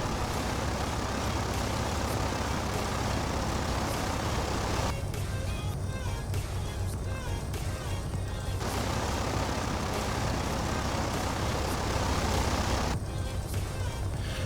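A Piper PA-22 Tri-Pacer light aircraft in a flight simulator at Las Vegas, its piston engine droning steadily and loud through the whole span as it rolls on the ground, the pitch and texture shifting slightly twice.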